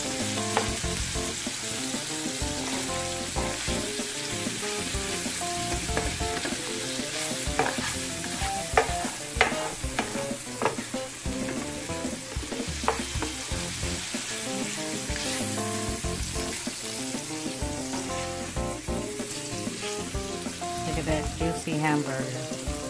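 Ground beef frying in a skillet beside other meat, with a busy, steady sizzle and frequent spatula scrapes and clacks against the pan, close and continuous, with no speech.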